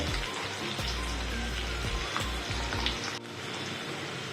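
Two large sliced onions sauté in a pan with a loud, continuous close-up sizzle and crackle that holds steady throughout, with a brief dip near the end.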